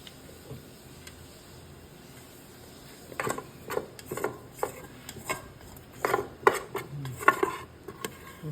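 Rice being washed in a pot by hand before cooking, giving a run of irregular sloshing, scraping and clinking bursts that start faint and then grow louder and denser, heard up close with no talking.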